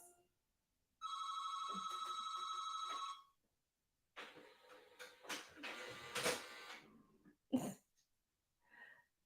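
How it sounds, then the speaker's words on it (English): A fax machine printer rings and chirps indoors: a steady electronic tone for about two seconds, then after a pause a run of mechanical whirring and feeding noises with sharp bursts, fairly close and alone. "Yes, this is a fax machine printer."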